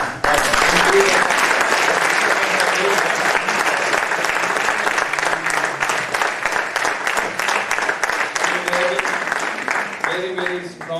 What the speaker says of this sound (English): And last but not the least, a big round of applause for Mohan and team